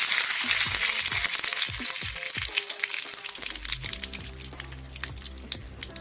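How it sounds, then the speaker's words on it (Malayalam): Mustard seeds crackle and pop in hot oil, dense sizzling with rapid sharp spatters, loud and close, easing into a softer fry. "നമ്മുടെ കടുകെല്ലാം പൊട്ടി വരുന്ന ഈ ഒരു ടൈമിൽ"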